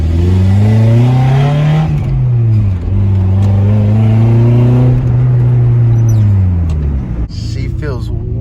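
A Nissan 240SX with an Injen intake is driven nearby, its engine note repeatedly rising and falling through loud revs and gear changes over several seconds.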